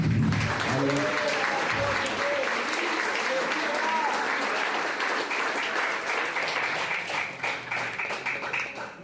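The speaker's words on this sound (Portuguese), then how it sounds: "Vamos aplaudir o Espírito Santo" Loud, sustained applause from a church congregation fills the space, steady clapping with crowd voices mixed in, tapering slightly toward the end.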